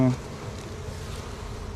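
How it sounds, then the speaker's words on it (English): Honeybees buzz inside an opened hive early in the beekeeping season, a steady, close, dense hum of many bees after a brief louder bump at the start. "there are a ton of bees in there"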